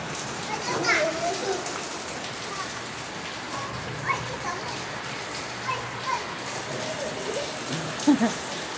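Rain pattering steadily on surfaces while children bathe in it outdoors, a soft continuous hiss with scattered louder splashes, and children's voices and talk mixed in.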